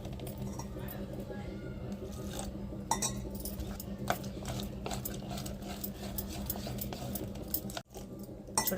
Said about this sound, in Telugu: మంచిగా అయితే కలబెట్టేస్తా.